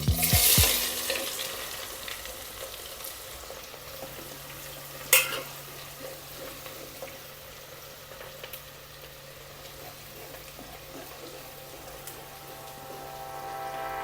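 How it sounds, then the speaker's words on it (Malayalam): Finely chopped onion with pepper frying in a pan for a curry, a quiet continuous sizzle with an occasional stir or knock, heard alone at low level. "ഇതിലോട്ട് ഒരു സവാള കൊത്തി അരിഞ്ഞതേ അതും ഇട്ട് കൊടുക്കാം"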